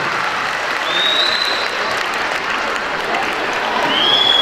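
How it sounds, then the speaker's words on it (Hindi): An audience at a convention ceremony in Islamabad applauds honored guests, with continuous, even clapping throughout and a couple of faint whistles rising above it. "ताली होनी चाहिए बेटा हमारे स्पेशल ऑनरेबल गेस्ट के लिए"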